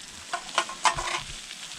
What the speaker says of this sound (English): All right, got some brats here sizzling.